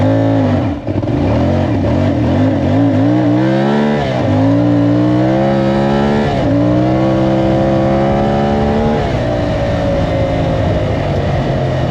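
A CFMoto 450 MT motorcycle pulls away on dirt with traction control on, its engine rising through repeated revving climbs and gear-change dips, loud and close, with no talking over it.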